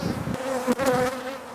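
Honey bees buzz in a dense, close swarm around an opened beehive, a steady droning hum with individual bees whirring past near the listener.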